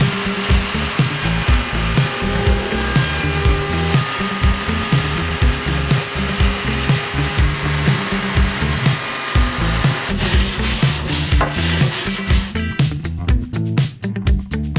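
Wood edges and corners are sanded smooth with a power tool, producing a loud, continuous gritty whir with rubbing surges that grows harsher and more broken near the end.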